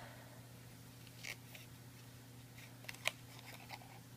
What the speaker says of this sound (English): take a pair of scissors and just cut the panel out close as you can